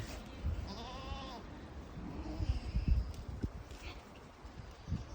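Goats bleating outdoors while a small Jack Russell–type herd dog rounds them up, a couple of wavering bleats near the start followed by scuffling hooves and light movement at middle distance.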